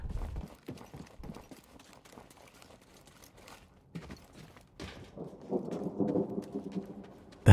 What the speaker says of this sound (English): The hell is that? Thunder?